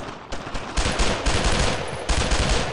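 Gunfire in the World War II video game Brothers in Arms: Road to Hill 30: loud, close machine-gun and rifle fire in continuous rattling bursts, with a few heavier shots standing out.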